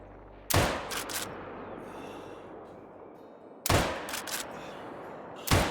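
Two loud, sharp rifle shots about three seconds apart, each with a ringing tail, fired at kangaroos from 150 yards in the hunting game Call of the Wild, over a quiet outdoor ambience.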